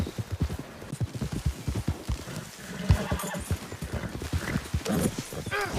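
Rhythmic hoofbeats of a Missouri Fox Trotter horse trotting in Red Dead Redemption 2, steady clip-clop close by, with a brief snort or whinny partway through.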